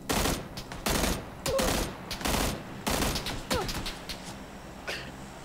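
Rapid bursts of video game gunfire in an online shooter, several clustered volleys of shots cracking out in quick succession with short gaps between them, close and loud.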